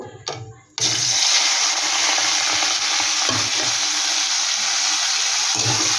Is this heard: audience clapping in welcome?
no